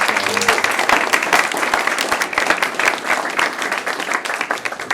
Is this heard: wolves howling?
no